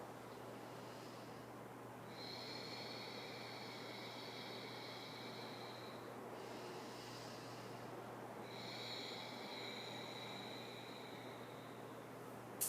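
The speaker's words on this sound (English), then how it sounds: "breathe in through the nostrils and breathe out using an audible breath through the throat" Slow ujjayi yoga breathing, each inhale through the nose and long constricted exhale rasping through the throat, soft and close, two long breaths over a steady low hum with no talking.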